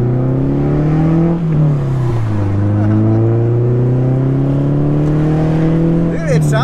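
A modified 2005 Scion tC four-cylinder engine grumbles and revs steadily up close, its low droning pitch shifting as it rises and settles, with a voice briefly heard over it.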